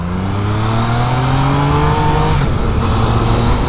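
A 2017 Yamaha MT-09 (FZ-09) motorcycle engine while riding, loud and close, its steady droning tone climbing as it revs, then a brief shift and a rougher continued roar.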